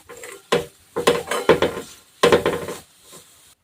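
A dried red chili mixture tossed in hot oil on a tawa brings several short bursts of spoon scraping against the pan over a light sizzle, then trails off into silence.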